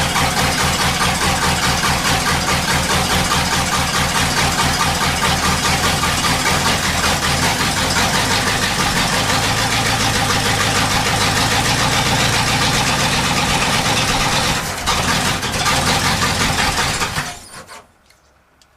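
A car engine, running under its own power for the first time in 35 years, idles steadily and loudly nearby with a rough, rhythmic knock, running for a long stretch before cutting off abruptly at the end.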